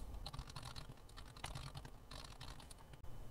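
Fast, continuous typing clatters on a computer keyboard, faint and close, keys tapping in a dense, uneven rhythm with a brief pause near the end and no voices over it.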